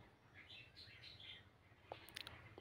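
Birds at an outdoor pet market at Noyabati haat in Khulna, where pigeons are kept, give faint, scattered chirps and a few brief calls over a low, steady background murmur.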